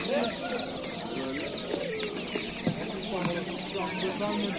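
Hens and chicks cluck and peep continuously at a poultry market in Nookat, a dense layer of close chirping and clucking with scattered market voices mixed in.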